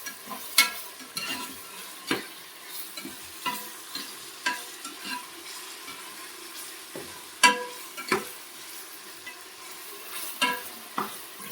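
Chicken with ginger-garlic paste fries in a pan for biryani, a spoon stirring and scraping in irregular clacks over a steady low sizzle, close by.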